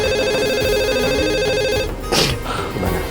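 A telephone rings on a call with a steady repeating electronic ring tone, fairly loud, that cuts off just before two seconds and leaves a room with a brief bit of noise.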